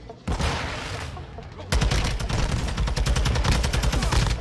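Rapid gunfire in a shooter video game, starting with a burst and then sustained fast automatic fire for several seconds, loud and close, with no talk over it.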